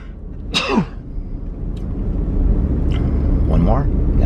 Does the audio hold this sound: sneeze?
yes